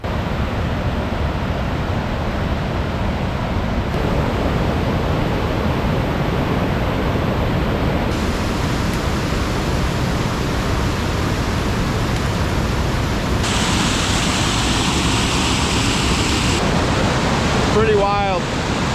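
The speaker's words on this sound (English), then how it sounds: "go take a look at the waterfall" Waterfall near a campsite in Algonquin Park, a steady broadband rush of falling water with constant roar throughout, a brief sharper sound near the end.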